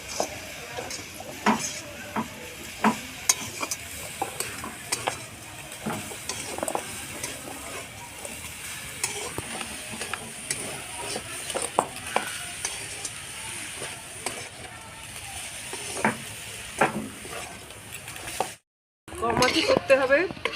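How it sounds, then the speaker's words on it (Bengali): A spoon stirs milk into soft bread in a pan for bread dudh puli, with steady scraping and gentle clinks against the metal over a faint sizzle, repeated through the whole stretch, with a short break near the end. "আমি অল্প অল্প করে দুধটা মিশিয়ে নেব পাউরিটা তো নরম ওর জন্য অল্প অল্প করে মিশাতে হবে"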